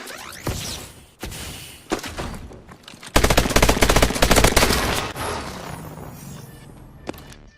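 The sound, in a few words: IMR gun firing in video game Advanced Warfare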